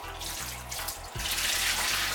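Kitchen tap water runs steadily into a sink while raw chicken is rinsed, a continuous close hiss and splash with a brief shift partway through, no voices.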